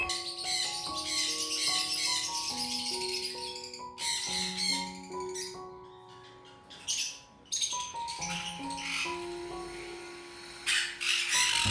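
Cockatiels and parrots at a bird breeding farm give a continuous chorus of squawks, shrill chirps and whistled calls, near and fairly loud, with no voices.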